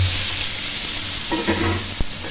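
Boiled potatoes are stirred in a frying pan over a constant close sizzle, with light scraping strokes and a single sharp knock of the utensil against the pan.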